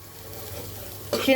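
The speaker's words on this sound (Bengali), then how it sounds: "মশলাটাকে আমি দুই থেকে তিন মিনিট আরও কষাবো" Spice paste (masala) frying and being stirred in a pan, a low steady sizzle that grows louder and busier near the end as the stirring picks up.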